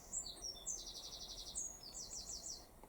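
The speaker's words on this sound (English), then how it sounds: "That beautiful bird's been singing to me all morning, now afternoon." A bird sings outdoors, a soft, distant series of high trilling phrases repeated over a faint background hiss, with no voices.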